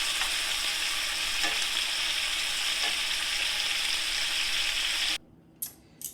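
Steaks searing in cast iron pans, a loud, dense hiss that holds steady, then cuts off abruptly near the end, leaving brief faint crackles.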